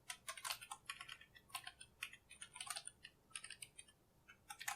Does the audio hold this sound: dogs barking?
no